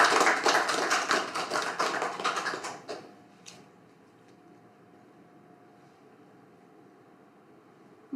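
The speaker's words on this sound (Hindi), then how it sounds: "तो कृपया ज़ोरदार तालियों से स्वागत कीजिए डॉक्टर ज्योत्सना शर्मा का।" Dense, loud applause from an audience welcoming a lecturer, a burst of many hands clapping for about three seconds that quickly dies away, followed by a near-silent room with a faint sound at the very end.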